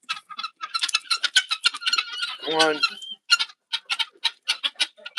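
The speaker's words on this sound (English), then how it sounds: "a couple chickens stay in there" A few farm chickens clucking near the listener in quick, irregular bursts, with a louder honking call in the middle and a brief spoken voice.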